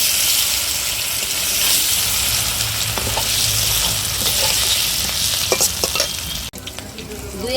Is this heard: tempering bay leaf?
yes